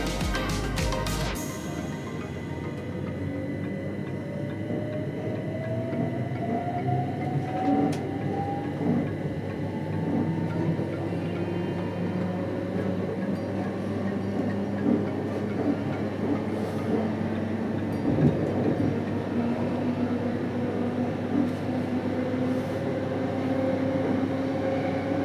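Trains move through a London railway station, a steady rumble of rolling carriages with clattering wheels and a faint rising whine, continuous and fairly near, no voices.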